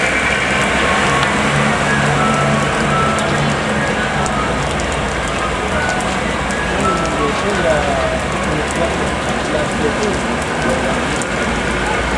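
Heavy rain pours at Terminal Barat Solok, a bus terminal, making a loud, steady wash of hiss and patter that runs unbroken through the whole stretch, with faint voices underneath.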